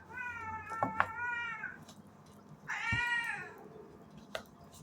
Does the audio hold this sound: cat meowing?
yes